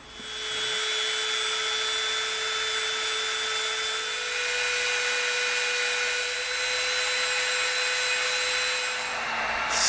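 Brass tube pressed through 6 mm EVA foam, a steady, moderately quiet grinding hiss with a faint high whine, continuous for several seconds before stopping abruptly.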